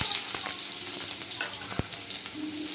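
White onions and mustard seeds frying in hot oil for a tomato curry, a continuous close sizzle with crackles and a few spoon-stirring knocks against the pan.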